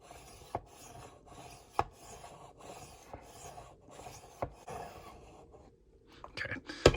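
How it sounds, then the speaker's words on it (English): Knife blade being honed on a Tumbler sharpening system: soft, steady rubbing strokes with a few sharp scraping clicks at intervals, close and fairly quiet, no talking. "let's go ahead and switch to the honing now real quick"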